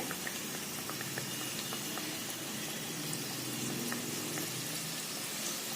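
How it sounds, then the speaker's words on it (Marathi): Karanji pastries frying in hot oil, a steady soft bubbling hiss with fine crackles that stays even and faint throughout, with no talking. "सगळ्या करंजा व्यवस्थित तळता आल्या पाहिजे त्या एवढ्याच सोडायच्या"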